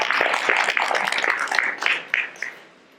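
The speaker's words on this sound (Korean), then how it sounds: "박수 쳐도 되는데." Applause from a lecture audience at a university anniversary talk, a dense burst of clapping that fades out over about three seconds.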